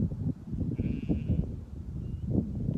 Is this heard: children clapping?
no